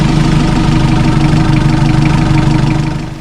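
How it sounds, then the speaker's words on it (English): A sailboat's inboard engine started and idling in the engine room, a loud, steady close-up drone with a constant rhythmic knock and vibration that holds evenly, then eases slightly at the end. "to start it to check if there's no problem when the engine runs"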